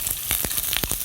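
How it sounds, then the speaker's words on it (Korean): Chicken sizzles as it fries in a generous amount of oil in a pan, giving a steady, close crackle broken by sharper pops, with no talking. "그래서 이렇게 지글지글 하잖아요."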